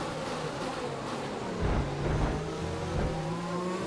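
F1 car engine noise from the racing game F1 2020 during a race at the USA circuit, a steady high-pitched whine with rising gear-pitch sweeps and brief louder bursts, running continuously throughout.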